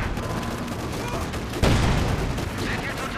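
Gunfire in the World War II strategy game Company of Heroes 2, a burst of rattling shots capped by a loud boom midway, with battle noise continuing under a player's talk.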